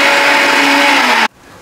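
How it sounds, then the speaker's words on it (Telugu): An electric mixer grinder whirs loudly and steadily, grinding biryani masala spices for a homemade Konaseema chicken dum biryani, then cuts off abruptly into silence. "నేను ఇవన్నీ మిక్సీ పట్టేసి మసాలా పట్టేసి చూపిస్తాను మీకు మొత్తం."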